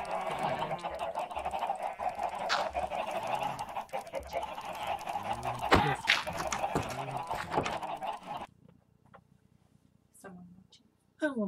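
Chickens in the video game Minecraft cluck and squawk in short repeated calls under steady background game sounds and talk, then a few isolated clucks near the end after the noise drops away.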